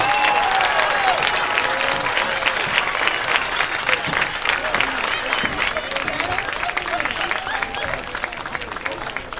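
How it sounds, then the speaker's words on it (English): A crowd at a high school football game between Mt. Vernon and Delta applauds honored teachers, a dense, steady wash of clapping with scattered cheers and voices throughout. "Let's give these outstanding educators a round of applause."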